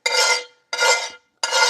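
A utensil scrapes across a skillet while spaghetti cooks, giving three harsh, bright scrapes close up, each lasting about half a second and separated by short gaps, with no talking.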